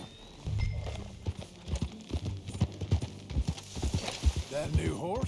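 Horse hooves clip-clop steadily in a western ranch video game, a rhythmic run of close hoofbeats under ongoing character dialogue, with a brief whinny toward the end.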